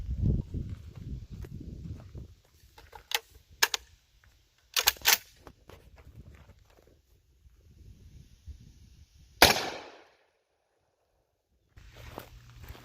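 A Citadel Boss-25 AR12-style 12 gauge shotgun fires one 4-buck buckshot load at a target 10 yards away: a single sharp, loud blast near the end, preceded by quieter clicks and handling noises.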